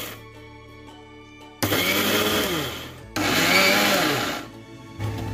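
An electric blender whips coffee with ice in two loud motor bursts of about one and a half seconds each, separated by a short pause, the whine rising as it spins up, over a quiet hum.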